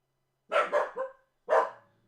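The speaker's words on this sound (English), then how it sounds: "It is too early in the morning to be barking" A dog gives three quick barks in a row, then one more after a short pause, close and fairly loud, in a quiet early-morning room.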